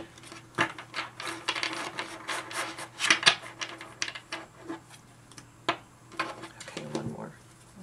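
Soft, uneven riffling and rubbing of cards, with repeated short bursts of flicking and tapping as a tarot deck is shuffled by hand, close up.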